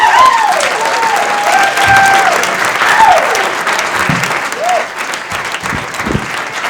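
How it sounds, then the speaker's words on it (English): A 1986 comedy club crowd applauds loudly as comedian Dana Gould is introduced, a continuous wash of clapping laced with bright whistles and cheers. "Please, a nice round of applause for Mr. Dana Gould"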